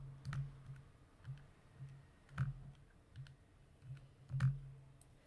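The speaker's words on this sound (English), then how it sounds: "So I'll just type it into the calculator." Keys tapped on a calculator, a few quiet, sparse clicks spaced about a second apart in a hushed room.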